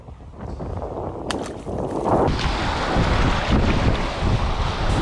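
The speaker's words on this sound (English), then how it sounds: "there's really no escaping the wind" Strong wind buffeting a microphone on a dock at a tropical resort, a loud continuous rumbling roar that swells midway, with faint water sounds underneath and no talking.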